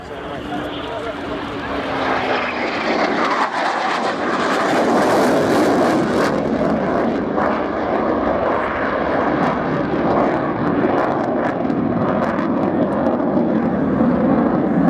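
A Royal Air Force Eurofighter Typhoon jet flies its display at the Yeovilton Air Day air show, a loud, continuous broadband roar that swells and holds steady throughout, with voices faintly underneath.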